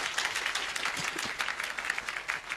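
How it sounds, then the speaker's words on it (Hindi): A seminar audience breaks into loud, continuous applause, a dense steady patter of many hands clapping at once with no pause. "जोरदार तालियां"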